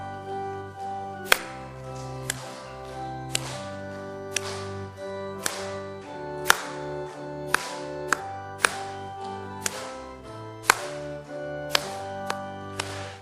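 Steady rhythmic handclaps ring out in time with music, a Korean church congregation clapping along to a hymn at Sunday service, played on keyboard or organ, loud and regular throughout.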